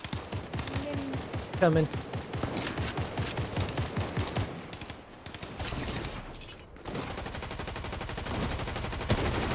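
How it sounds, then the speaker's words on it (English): Fortnite gunfire rattles almost without pause as dense, rapid shots over a busy battle-royale soundscape, briefly thinning midway before resuming, while players talk over it. "Oh, somebody's shooting at you."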